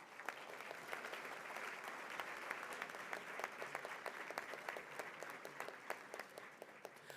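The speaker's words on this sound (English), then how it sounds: "Won't you join me once again in expressing gratitude with another round of applause?" An audience at a memorial breakfast applauds steadily, a dense wash of many hands clapping with sharp individual claps standing out, even and sustained throughout at a moderate distance.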